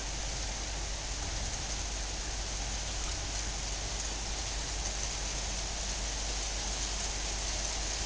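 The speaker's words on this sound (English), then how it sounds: "Oh, it's raining harder now." Rain pours steadily during a thunderstorm in Pobyeda, a dense even hiss of drops with no pauses, fairly faint and constant, with no voices.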